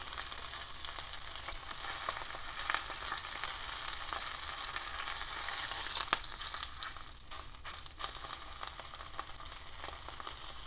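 A ribeye steak sizzles in bacon fat in a hot pan, giving a steady, fine crackling hiss with occasional sharper pops, close and fairly quiet, with no talk.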